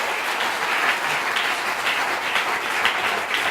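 A church congregation at a French-language prayer service applauds and cheers loudly, a dense, continuous wash of clapping from a large crowd that fills the whole stretch.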